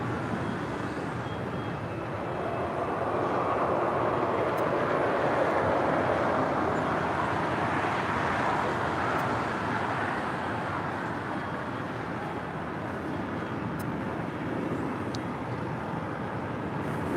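An airliner departing LAX, such as an American Airlines A321neo or a United 737-900ER, gives a steady broad engine roar that swells slightly mid-way and then holds, distant and continuous, with no talk.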